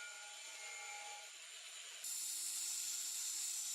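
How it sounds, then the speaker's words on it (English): A PROXXON cordless battery-powered belt sander grinds with a steady high-pitched whine, running smoothly and then stepping up to a louder, brighter pitch partway through. "The PROXXON battery-powered belt sander, BSA, the compact problem solver for many tricky grinding jobs in craft,"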